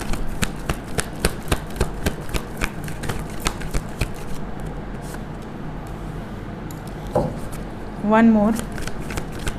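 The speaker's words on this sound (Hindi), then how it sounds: "बॉटम ऑफ द डेक है 6 ऑफ वॉन्ड्स" Tarot cards are shuffled in a steady run of crisp riffles and taps close by, with a voice speaking over them and a brief sung or hummed phrase near the end.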